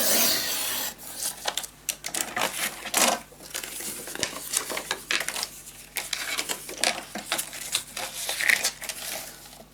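Scissors cutting paper for a scrapbook mini album, a series of short crisp snips and rustles in irregular bursts, close and fairly loud, with no talking.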